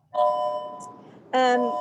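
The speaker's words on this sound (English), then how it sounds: "Excuse the bells." Two chiming bell tones ring nearby, one sustained then another struck louder about a second later, with rich ringing overtones and no talk.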